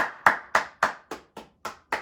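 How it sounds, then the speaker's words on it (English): Eight sharp hand claps in a steady, even rhythm, close and fairly loud, each snapping on and decaying quickly, with no talking over them. "Get a round of applause one time."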